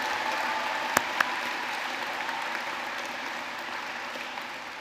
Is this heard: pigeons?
no